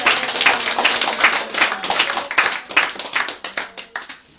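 A church congregation claps loudly and continuously, a dense burst of many hands applauding together in a reverberant hall, with faint voices mixed underneath.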